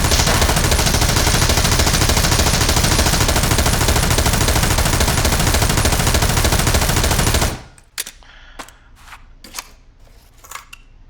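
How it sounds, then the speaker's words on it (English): An M249 machine gun fires one long sustained burst of roughly 100 rounds into a wall, a dense, loud, continuous roar lasting about seven seconds. It stops abruptly, leaving quiet with a few sharp clicks and clanks. "I'm going to unload onto the wall and try to keep my recoil control."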